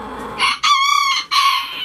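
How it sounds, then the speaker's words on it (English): Chickens in a coop, with a rooster crowing loud and close in two drawn-out calls amid brief clucking. "So many chickens."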